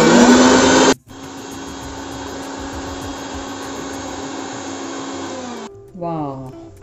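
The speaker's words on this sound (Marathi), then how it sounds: "आता हे छान आपण मिक्सरला परत फिरवून घेऊया." A mixer grinder runs steadily for about five seconds, blending beetroot buttermilk with rock salt and cold water, then switches off abruptly. A short burst of a similar motor sound comes at the very start, and a voice speaks briefly after the motor stops.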